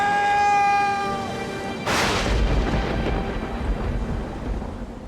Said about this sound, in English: As night falls, the storm gets worse.